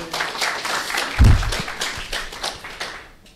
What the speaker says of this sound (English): I would like you to warmly applaud them